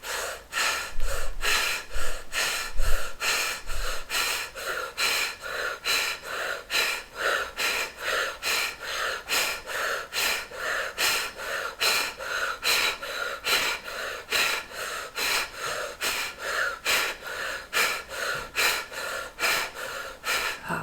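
Rhythmic breathwork: a steady series of sharp, forceful breaths, roughly two per second, pumped in and out without pause for about twenty seconds, close and loud with no talking.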